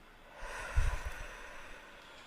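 Ocean surf rolls in as a soft, faint wash of noise that swells with a low rumble and then slowly recedes.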